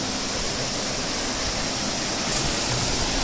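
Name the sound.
waterfall in Skåne, stream flowing over rocks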